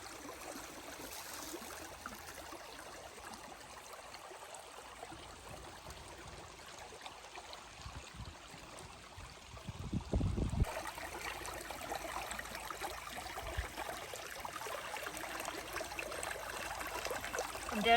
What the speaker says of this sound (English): I'd come over here real quick too and look at the creek